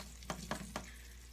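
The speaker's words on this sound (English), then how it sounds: "I'm going to just move those eggs around." Eggs sizzle in a Gotham copper pan over a steady hum, with three soft scrapes as a spatula pushes them around, close and quiet with no talk.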